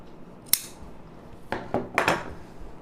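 Scissors snip through lining fabric for a baby frock. There are a few close, crisp cuts, one sharp snip followed by a quick cluster of three, against a quiet room.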